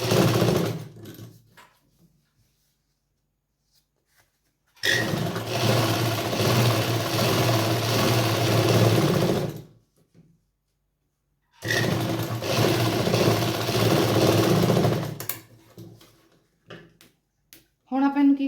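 An electric sewing machine stitches a salwar along the buckram edge in two long, steady runs of fast mechanical whirring, each about five seconds, close and loud with short quiet pauses around them.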